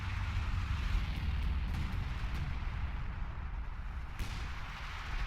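Artillery fire in a Battle for Caen video game, a continuous low rumble of distant booming detonations and gunfire, with no clearly separated single blasts.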